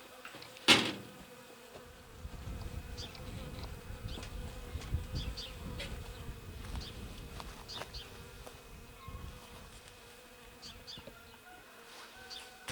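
A dense, steady buzzing of many bees in an Alpine hive, close and continuous, with a sharp knock near the start and no talking.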